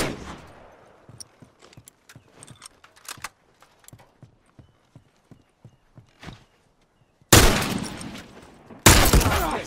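Rifle gunfire in The Last of Us multiplayer rings out as a series of sharp, spaced cracks over quiet background, then two loud, sustained blasts of noise near the end, close and punchy.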